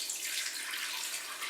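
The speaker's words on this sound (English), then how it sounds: "Pour your water in there." Water poured into a pot holding corned beef, a soft, continuous splashing hiss, faint and steady, with no speech.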